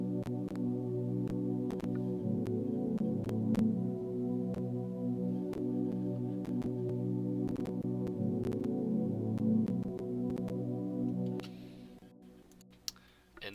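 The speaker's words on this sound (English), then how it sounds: "And then I have this pad that is almost the same as the piano." Soft synth pad in FL Studio with a piano-like tone holds sustained chords that shift between a few note variations, steady and moderately quiet, with faint clicks and no talking before it fades near the end.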